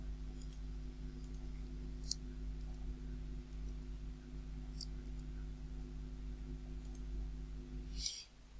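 Mouse clicks while working in Blue Prism automation software: a few sparse, sharp, quiet clicks spaced irregularly over a low steady electrical hum, with no voice.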